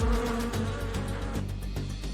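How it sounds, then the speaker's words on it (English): Angry bees buzz in a steady, dense drone with fluttering pulses, close and fairly loud throughout, with no voices. "But bees seem to be angry."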